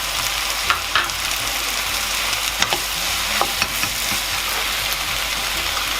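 Pork and vegetables sizzle in a hot pan as chopped spring onion goes in, a continuous loud frying hiss with scattered clicks and scrapes of stirring.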